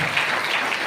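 A church congregation claps together in sustained, dense applause, a steady wash of many hands filling the room.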